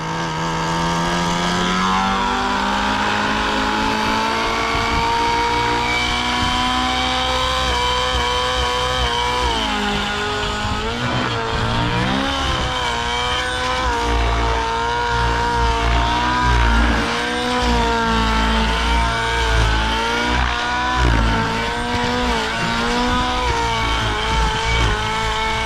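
A SAB Goblin Raw 700 nitro RC helicopter engine runs while being retuned after its carburetor fell off, a loud, close, continuous high-pitched buzzing whine that rises and wavers in pitch throughout.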